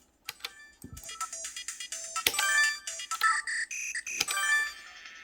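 Bright, chiptune-style electronic game music with quick beeping notes and short melodic runs, playing alone.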